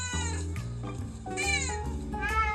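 An indoor cat meows at other cats shown on a TV screen, giving several drawn-out, close meows in quick succession with no one talking.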